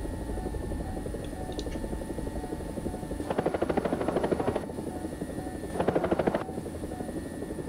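A Chinese attack helicopter flown in the War Thunder combat game gives a steady rotor and engine drone throughout, with two louder, brighter surges of rotor chop as it manoeuvres, no talking over it.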